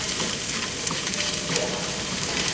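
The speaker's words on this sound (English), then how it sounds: "your eggs need to cook a little bit longer because when the vegetables cook, it puts a lot of water to the bottom of the pan" Eggs and spinach frying in a pan for a healthy breakfast, giving a steady, dense sizzle and crackle that runs unbroken at moderate loudness with no voices.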